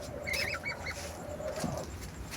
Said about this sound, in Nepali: यहाँ हाँस छ, यहाँनिर एउटा हाँस र फाइटरको बच्चा अनि कमजोर बच्चाहरूलाई यहाँ राखेको छु